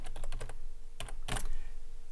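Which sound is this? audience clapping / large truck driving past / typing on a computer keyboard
typing on a computer keyboard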